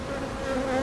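Honey bees swarm and buzz at an open hive whose queen is filling the brood box, a steady close drone with no break, loud and continuous throughout.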